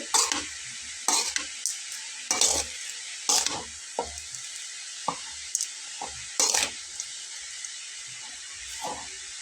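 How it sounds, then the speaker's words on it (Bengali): A carrot barfi mixture in a pan is stirred continuously with a spoon, giving repeated scraping strokes at an uneven rhythm over a faint sizzle, close and fairly loud. "প্রথমের দিক থেকে অনবরত নাড়তে হবে শেষের দিক থেকে একটু কম নাড়াচাড়া করলেও চলবে"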